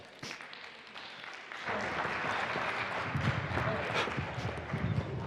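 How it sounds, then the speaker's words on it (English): Conference audience at an end-of-day livestreamed session breaking into applause, starting with a few scattered claps and then swelling into a full, steady round of clapping from a large room. "Can I have the most rousing end of day RFF 25 round of applause, please?"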